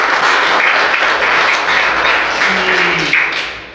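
An audience at a guided gallery visit with artist Mario Arroyo claps in a steady, dense burst of applause that holds at full strength and tapers slightly at the very end.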